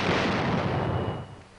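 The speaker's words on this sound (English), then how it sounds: "A mortar." A military mortar fires in a 1940s wartime combat setting, giving a loud, deep boom with rumbling reverberation that holds for about a second before decaying, with no voices.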